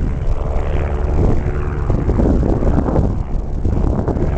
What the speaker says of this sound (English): There's a real helicopter taking off.